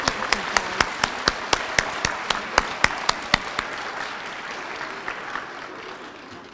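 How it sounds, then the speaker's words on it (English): Applause at an elementary school opening ceremony, with a steady run of crisp, evenly spaced claps standing out over softer clapping that gradually thins and fades toward the end. "give them another round of applause."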